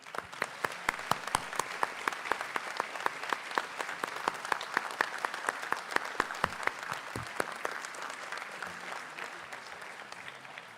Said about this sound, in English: I would also request family of Rahul and the professor he mentioned to raise for another round of applause.